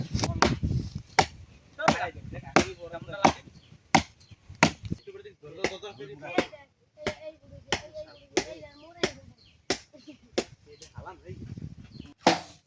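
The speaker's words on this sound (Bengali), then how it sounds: "আমরা এখন রান্না করার জন্য মুরগিটাকে কাটবো।" Sharp, evenly spaced chops of a blade through chicken on a board, outdoors while preparing bamboo chicken in a forest; about two dozen crisp near strikes with brief gaps, some scraping and faint speech between blows.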